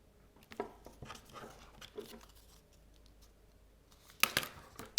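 Scissors snip through paper for a scrapbook card, a few close, crisp cuts spread across a quiet tabletop, with a sharper burst of snipping near the end.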